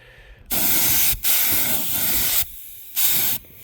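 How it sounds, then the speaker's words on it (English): Loud bursts of airy hissing from a paint spray gun painting a Humvee's rear AC evaporator box, several sprays of varying length separated by brief pauses, close by. "keep my camera focused on the spray gun"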